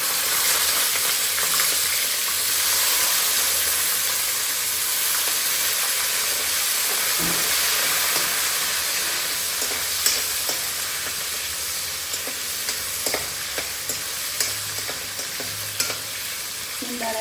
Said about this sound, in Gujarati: સ્મેલ આવે છે સિંગદાણાની તમે જોઈ શકો છો અવાજ પણ આવે છે પાકવાનો